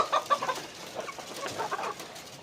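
Fayoumi chickens cluck softly in a coop, a series of short, faint clucks and murmurs bunched at the start and again midway, with no talking.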